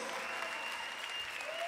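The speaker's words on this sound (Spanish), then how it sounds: "Que ese aplauso suene por todo Valparaíso para despedir a estos tremendos músicos." Concert audience applauding at the Temporales Musicales 2013 show in Valparaíso, a continuous dense clapping heard from a distance, fairly faint and steady throughout.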